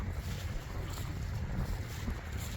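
Wind on a grey December day out among woods and farmland in Suffolk, a constant rushing gust that buffets the microphone with low rumbling surges and nobody speaking.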